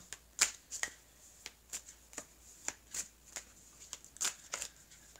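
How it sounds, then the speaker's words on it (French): Tarot cards are handled, shuffled and laid over one another in a quiet room, producing a series of soft, irregular papery flicks and slaps, close and fairly faint, with no talking. "Alors, je vais donc recouvrir les cartes."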